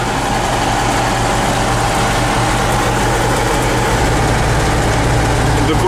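A T-150K tractor engine runs steadily in a wet, loamy field in the rain, a loud, continuous low diesel rumble with no breaks.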